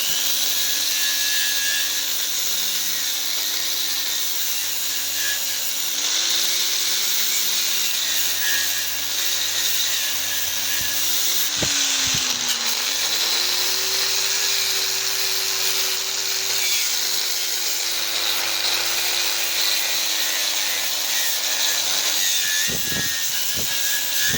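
An electric tool whines continuously against a rusty scooter or motorcycle muffler with a high, gritty grinding noise, removing rust. Its pitch dips and rises slightly as the pressure changes, with a few brief knocks.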